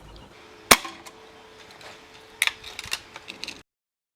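A Diana Model 15 air rifle fires 8.2 grain BSA Pylon No. 1 pellets over a chronograph. One sharp, loud shot comes early, then a second report with a few lighter mechanical clicks and ticks after it, with no talking.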